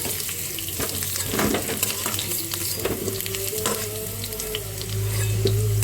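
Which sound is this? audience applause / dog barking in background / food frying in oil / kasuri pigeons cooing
food frying in oil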